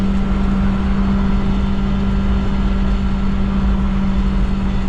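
Subaru Sambar kei van heard from inside while coasting downhill on a road, a steady loud engine and road drone with a constant low hum and no pauses, no talking.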